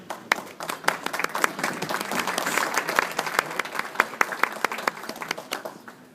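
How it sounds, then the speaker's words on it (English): An audience at a family speech event breaks into sustained clapping, a dense, steady patter of many hands lasting several seconds, with a few louder claps standing out. "Clap, Mom."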